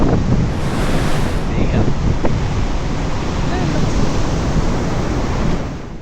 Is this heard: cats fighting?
no